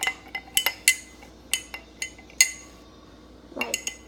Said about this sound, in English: now you're gonna get your utensil and start to mix